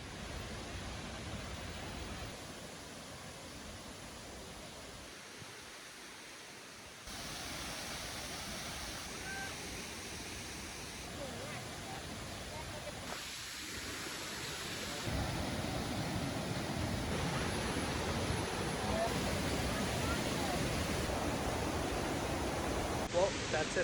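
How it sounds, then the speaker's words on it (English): A waterfall in Doi Inthanon National Park, Thailand, pours as a dense, steady roar of rushing water whose level shifts a few times and swells louder in the later part. "So we made it to our very first waterfall."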